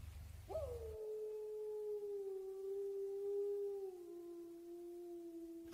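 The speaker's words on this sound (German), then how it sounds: "Wölfe, die den Mond anheulten." Wolves howling at the moon: one long, sustained howl rises sharply then holds and slowly falls, with a fainter second voice layered above, carrying over quiet surroundings.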